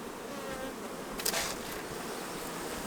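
Honey bees at a large honey production hive make a steady, dense buzzing drone throughout, moderately loud and close, with no voices.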